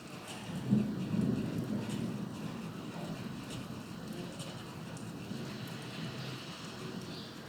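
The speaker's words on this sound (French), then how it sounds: "Ouais, c'est les orages." A moderate to strong evening thunderstorm: a low, steady rumble of thunder rolls on beneath continuous rain noise, with a slightly louder swell near the start and no voices.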